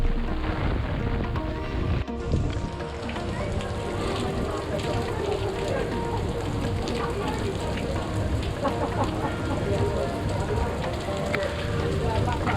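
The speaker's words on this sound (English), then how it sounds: "the rain started to come down like crazy" Heavy rain pours down steadily in a dense, continuous hiss of drops hitting surfaces, with a faint voice in the background.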